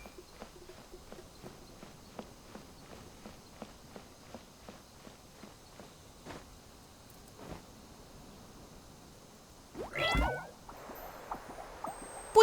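A cat in the video game Genshin Impact lets out one short, fairly loud meow near the end, after a stretch of soft, rhythmic footstep taps.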